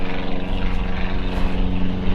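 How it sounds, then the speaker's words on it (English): A propeller airplane flies over near Carlsbad Airport. Its engine drones steadily and loudly for the whole stretch, with no talking. "I heard an airplane fly over too"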